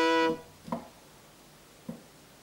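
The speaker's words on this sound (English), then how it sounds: "Here's how the defect manifests itself. Only 4 out of 6 notes keyed play a sound." A faulty synthesizer sounds one sustained keyed note, then two short, faint notes separated by silent gaps where further keyed notes fail to play.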